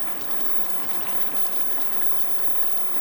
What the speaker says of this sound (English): Now we are just gonna add just enough water